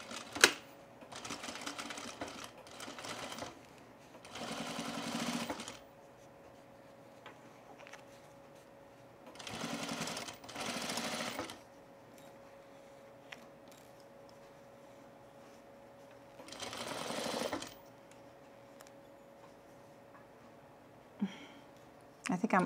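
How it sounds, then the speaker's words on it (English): A sewing machine top stitching men's cargo shorts runs in several separate bursts of rapid, close mechanical whirring, each lasting a few seconds, with quiet pauses and a faint steady hum in between. "I'm just gonna put a sneaky top stitch right here"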